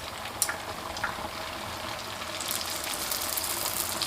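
Youtiao dough sticks frying in a wok of hot oil, a steady close sizzle and bubbling hiss that swells louder in the second half, with no talking.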